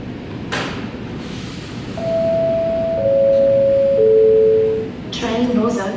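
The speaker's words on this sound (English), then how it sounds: "Train doors opening." Sydney Metro train doors open at a station platform, sounding a loud, near sequence of three descending electronic chime tones, followed by brief clunks as the doors move, over steady platform background noise.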